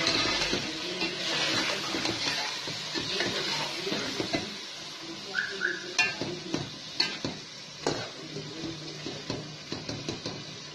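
Wet scraping as biryani masala is stirred into a pot over a low sizzle, with irregular clinks of a spoon against metal growing more distinct toward the end.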